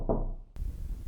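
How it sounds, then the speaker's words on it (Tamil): A sharp knock on a house door lands partway through, set in a Tamil horror short film, standing alone in a quiet room with a low hum and no voices. "யாரோ கதவை தட்டுறாங்க, போய் பாருங்கடா."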